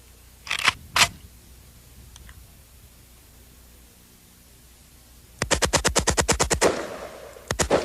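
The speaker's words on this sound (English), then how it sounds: "Primary feature is with one pull of the trigger, it will fire repeatedly." A fully automatic AK-47 rifle fires a rapid, evenly spaced burst of about a dozen loud shots, following two separate single reports and a stretch of quiet, then a few more quick shots at the end.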